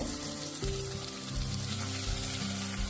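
Ground masala fries in hot oil in a pan, giving a steady, loud sizzle with crackling bubbles and a faint stirring sound, with no talking.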